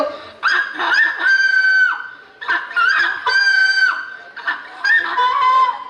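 A human voice mimics a rooster crowing, giving about four long, strained, wavering crow calls in a row. The calls are close and loud, with short breaks between them.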